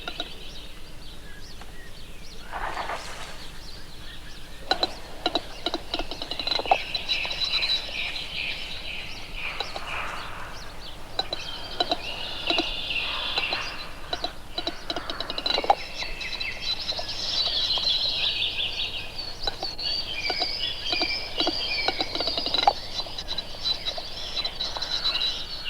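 Male capercaillie, a turkey-sized native British grouse, giving its clip-clop courtship display call to females: a series of sharp clicks and pops among other bird calls over a steady background hiss, moderately near and with no talk.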